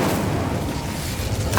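Incendio fire spell cast in Hogwarts Legacy, a dense roaring whoosh of magical flame with booming low rumble, loud and sustained, ending in a brighter burst.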